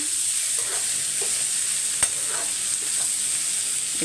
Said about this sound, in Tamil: பாதி அப்படியே எண்ணெயிலே வதக்கிட்டு